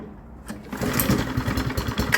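A petrol lawn mower engine catches on the first pull of the starter cord, going from a brief cord rattle straight into a steady, close, buzzing idle that keeps running.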